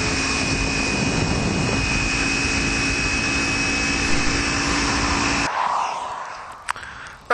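A Kawasaki Ninja 300 motorcycle fitted with a Screaming Demon slip-on exhaust roars loudly and steadily while riding, then the engine note suddenly drops away, leaving quieter rumbling and rustling with a few knocks.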